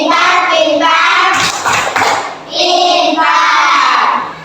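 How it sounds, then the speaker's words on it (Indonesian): Children in an Indonesian classroom clap and chant the rhythmic 'tepuk pintar' praise routine together, loud and close, with harmonic voices rising in bursts over quick hand claps. "Kita kasih tepuk pintar."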